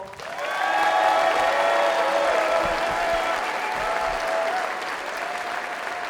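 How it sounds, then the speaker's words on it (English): A high school gymnasium audience at an opening ceremony in Mount Vernon, Washington, gives principal Rod Merrill a loud, sustained round of applause, dense clapping that holds steady for several seconds while a sustained tonal sound rings through it. "Give a warm round of applause to Rod Merrill"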